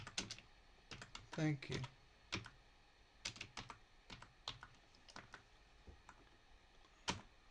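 A computer keyboard is typed on in uneven bursts of crisp clicks, with a short spoken phrase briefly heard among the keystrokes.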